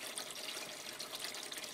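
Water rises in an aquaponics bell siphon with a steady, close trickling rush that holds at an even level throughout, with no voices.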